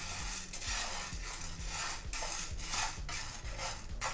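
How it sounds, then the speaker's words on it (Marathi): Sabudana dry-roasts in a pan and is stirred steadily. Close, rhythmic scraping and rattling strokes repeat about twice a second, with no talking. "त्यामध्ये आपण पापडामध्ये घालण्यासाठी घेतलेले साबुदाणे भाजून घेऊया"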